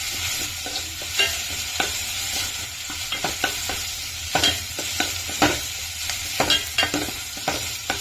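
Curry leaves frying in hot oil in a pan for Kerala tomato rasam, a steady crackling sizzle broken by repeated sharp scrapes and clinks of a spoon stirring, close and alone.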